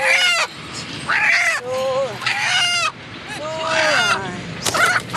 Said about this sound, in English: that's a feisty chicken